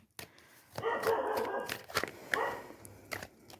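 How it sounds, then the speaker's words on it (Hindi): A dog barks several times outdoors at a distance, sharp separate yelps over faint background noise. "डॉग भौंक रहा है, भौंक रहा है।"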